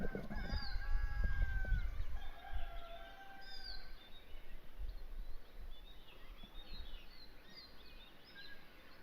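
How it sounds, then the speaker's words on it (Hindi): Birds and a rooster call across a coffee farm at sunset, a burst of clucking and chirps up close at the start, then scattered birdsong and faint calls drifting over a steady outdoor hush. "एकदम चिड़िया का साउंड, मुर्गे का साउंड"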